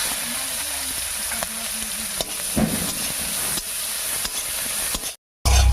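Chopped onion with cumin seeds fries in mustard oil in a wok, a loud steady hiss and sizzle with occasional stirring scrapes, cutting out abruptly before resuming.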